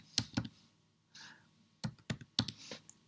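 Computer keyboard typing as a spreadsheet formula is entered, a few quiet, sharp key clicks in uneven clusters with a soft breath between, close and otherwise silent.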